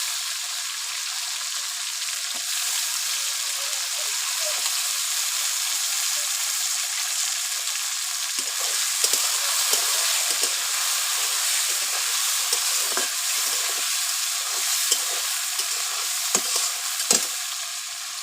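Tomatoes fry with onions in a pan, giving a steady, bright sizzling hiss that runs unbroken throughout, with a few soft crackles and spatters and no talking.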